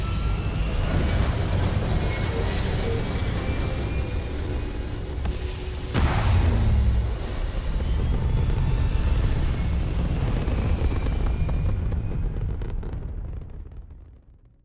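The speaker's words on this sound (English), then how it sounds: "All thrusters firing." Spaceship thrusters fire in the Starfield game as a loud, sustained rumbling roar with a brief surge partway through, then fade out at the end.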